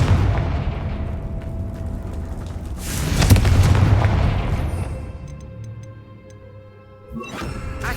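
A Confringo fire spell detonates in Hogwarts Legacy on PS5, a loud booming blast with crackling debris and a lingering rumble, followed by a fainter thud near the end.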